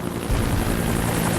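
Helicopter rotor chop in Jurassic Park: The Game, a loud steady throbbing whir that fills the whole moment without voices.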